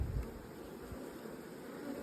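Honey bees buzz steadily around beehives, a low continuous drone of many insects with a louder close pass at the start and no voices over it.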